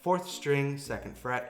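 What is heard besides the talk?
No everyday noise stands out behind the speech.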